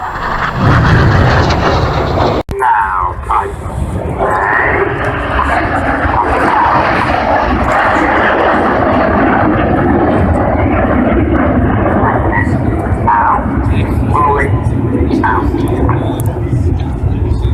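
Red Arrows jets fly a tight airshow manoeuvre at Cosford Airshow 2015, giving a continuous broad, rushing engine roar that stays loud throughout while a commentator talks over it.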